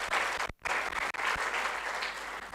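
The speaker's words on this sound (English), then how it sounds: "So let's welcome him with a big round of applause." An audience at a student success event applauds to welcome a young doctor from Canada, a dense, loud round of clapping broken only by a brief gap near the start.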